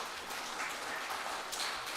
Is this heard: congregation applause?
yes